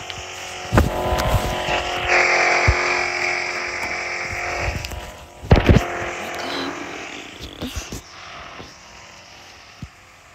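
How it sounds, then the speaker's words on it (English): Cars driving around outside at night, engines passing and fading with a couple of louder bursts, over a steady electrical hum. "Why are so many people driving around?"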